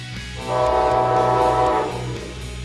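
A train horn sounds loudly for about a second and a half over the low rumble of a passing train.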